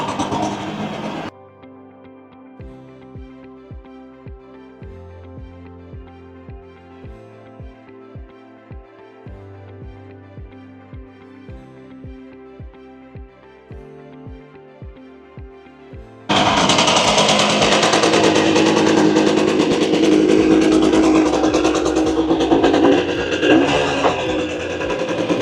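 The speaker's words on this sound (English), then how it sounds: "I'm just going to let this warm up, get some heat into the engine" A 1965 Suzuki K10 motorcycle engine, revived after sitting for years, idles steadily while warming up, giving a loud, regular mechanical clatter that abruptly jumps to a much louder, rougher roar near the end.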